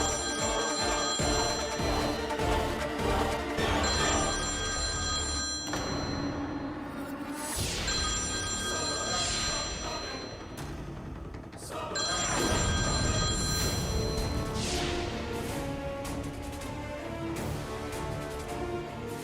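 A telephone rings and goes unanswered, its bell-like tones repeating in loud bursts over about twenty seconds, close and clear, with a soft whoosh between rings.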